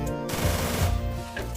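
Rapid automatic gunfire rattles loud and close in the Free Fire video game, a continuous burst lasting over a second before fading.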